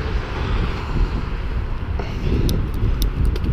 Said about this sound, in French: j'ai le vent de face là